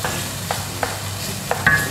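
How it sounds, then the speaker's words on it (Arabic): Red pepper fries with onion and garlic in a pan, giving a steady low sizzle broken by a few sharp utensil scrapes and clicks. "هلا عندي فلفله حمراء رح نقليها كمان مع البصل والثوم"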